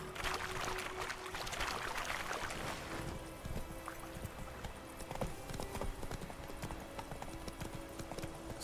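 A horse's hooves clip-clop in The Witcher 3, a steady rhythmic trot of repeated hoof strikes under ambient game sound, louder at first and then continuing evenly.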